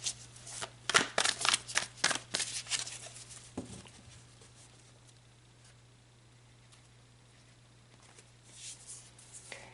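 Tarot cards being shuffled close up, a burst of rapid riffling flicks in the first few seconds, then a quiet stretch over a low steady hum, with a faint rustle near the end.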